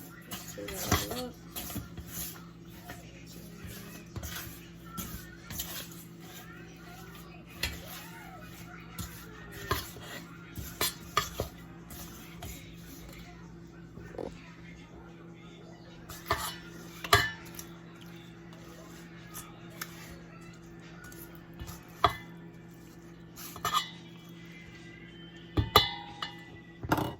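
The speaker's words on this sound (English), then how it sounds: "Let's stir that all up." Food seasoned with garlic powder is stirred in a pan in a home kitchen, giving scattered scrapes, clinks and utensil taps against cookware over a low steady hum, quiet and intermittent.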